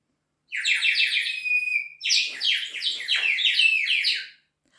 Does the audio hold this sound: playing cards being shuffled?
no